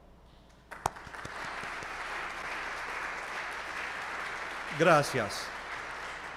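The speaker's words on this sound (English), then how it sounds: "Please applaud all of them." An audience at a university memorial event applauds the organizers, a sustained even clapping wash rising after a sharp knock, with a voice briefly speaking over it near the end.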